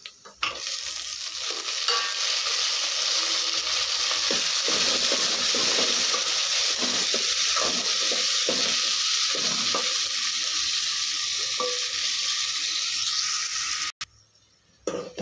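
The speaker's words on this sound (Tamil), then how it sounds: "தக்காளியை இந்தளவு நல்லா மசிய வதக்கி விட்டுட்டு" Tomatoes and onions frying in a pan with cumin, a loud continuous sizzle with frequent spatula stirs and scrapes that stops abruptly near the end.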